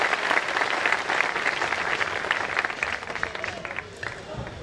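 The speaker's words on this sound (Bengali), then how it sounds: "স্যারদের সকলের জন্য সজোরে করতালি হবে।" A picnic crowd gives loud applause for the guests of honour, a dense, continuous patter of many hands that slowly thins and softens toward the end.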